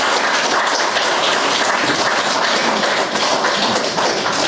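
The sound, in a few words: audience applause at a book launch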